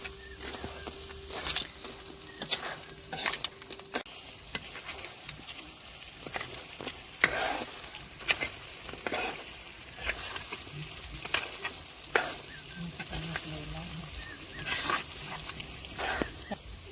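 Crab curry is stirred in a frying pan, a faint sizzle beneath soft, irregular scraping and clinking strokes, fairly quiet with some background hum and no clear speech.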